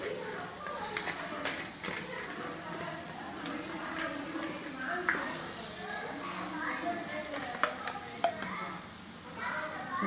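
Marinated kodva (barramundi) fish pieces frying in oil make a continuous crackling sizzle with scattered pops and utensil taps, while a voice talks over it at moderate level.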